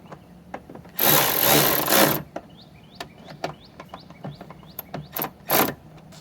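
Mud flap bolts are tightened on a 3rd gen Tacoma with a ratchet, a burst of loud buzzing power-tool whir followed by sparse clicks and short ratcheting bursts close by.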